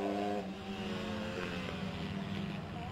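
Honda CRF150 motorcycles race on a cold winter track, their engines giving a steady buzzing drone at a moderate distance, with pitch rising and falling as the bikes pass.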